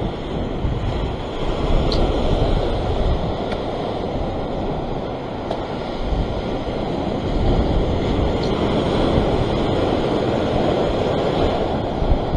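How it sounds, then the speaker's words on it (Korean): Ocean swell waves surging and breaking along a rocky shore while fishing in Sydney, Australia, a steady loud wash of surf blended with wind buffeting, with no talking. "에헤이, 너울성 파도."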